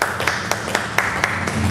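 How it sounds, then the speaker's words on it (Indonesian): A small group at a health clinic podcast recording claps in a sparse, regular rhythm of about eight distinct claps over low room hum. "Boleh tepuk tangan."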